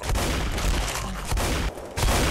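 Pump-action shotgun firing in the video game Left 4 Dead, three loud booming blasts in quick succession, close and alone.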